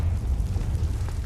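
A Confringo fire spell explosion in Hogwarts Legacy, a short heavy booming burst with a deep rumbling roar that fills the moment and fades quickly.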